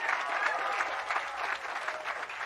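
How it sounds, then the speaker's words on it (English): An outdoor crowd on the Hollywood Walk of Fame breaks into brief, dense applause at a star ceremony, the clapping staying full and steady for a couple of seconds. "you can clap for my mom"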